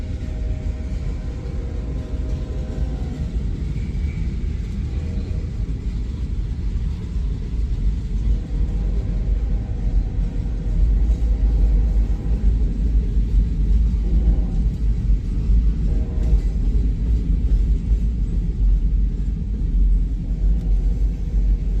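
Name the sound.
CSX freight train passing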